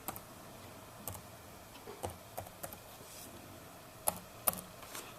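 A password being typed on a computer keyboard at a reception login screen: sparse, quiet key clicks in an irregular rhythm, with a couple of sharper taps near the end over faint room noise.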